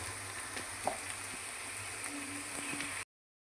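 Onion and cumin seeds frying in a pan with salt, a steady close sizzle with faint crackles, cutting off abruptly, and no voices.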